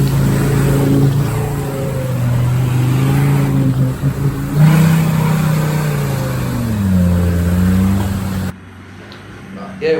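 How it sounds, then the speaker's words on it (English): A home-built yellow off-road rig drives through a pit, its engine droning loudly and rising and falling in pitch as it revs, before cutting off abruptly near the end. "in the video of him driving back through the pit in that yellow rig that he built"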